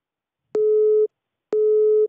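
Telephone busy signal on a call, two loud steady tones about half a second each, separated by a short silence, with no talk.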